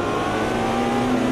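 Ferrari race car engine in the racing game Automobilista 2, a steady loud droning roar held throughout with a rising tonal whine, close and continuous, no voices.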